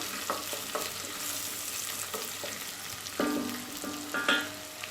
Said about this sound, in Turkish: Sarımsağımı rendeledim. Ve şu anda kavuruyorum.